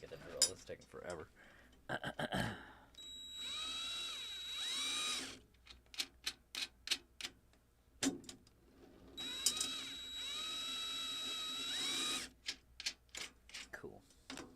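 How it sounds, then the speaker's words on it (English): Cordless drill used during a tom mounting job on an unboxed drum kit, whirring in two sustained bursts of about two seconds each, with sharp clicks and clatter of handling between them. "Here, I'm gonna get the drill."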